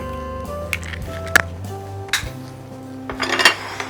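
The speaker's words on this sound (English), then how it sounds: "we're going to mix our egg" An egg mixed with butter in a bowl for homemade fish fingers, close clinks and ringing taps of a utensil against the dish in irregular bursts, with no talking.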